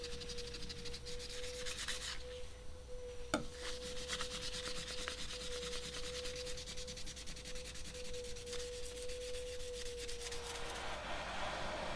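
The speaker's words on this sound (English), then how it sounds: "I just used some sandpaper to clean up the blade before heat treating." Sandpaper rubs back and forth over a steel knife blade in steady, continuous scraping strokes, close and even throughout with no voices.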